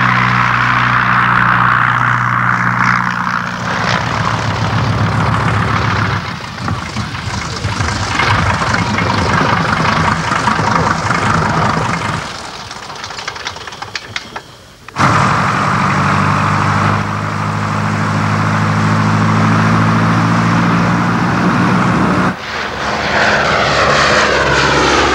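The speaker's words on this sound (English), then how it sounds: "we leave Hawkers and turn to de Havilland with the DH-60 Moth" A de Havilland DH-60 Moth biplane's propeller engine drones loud and steady for the whole stretch, with shifts in tone and two abrupt breaks, as if passing close overhead.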